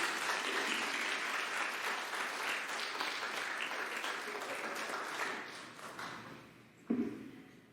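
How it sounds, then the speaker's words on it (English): Graduation audience at the 2022 VSDB ceremony bursts into loud, sustained applause filling the hall, thinning out near the end before a single sharp knock. "Let's give them all a round of applause."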